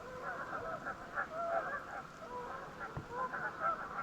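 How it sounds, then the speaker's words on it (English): Geese near a lake in early spring morning honk repeatedly in an excited, overlapping chorus, fairly distant, over a steady outdoor background. "geese are going nuts this morning"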